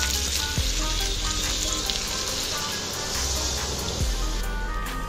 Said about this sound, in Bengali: এবার আমি দিয়ে দিচ্ছি এর মধ্যে পরিমাণ মতো জল।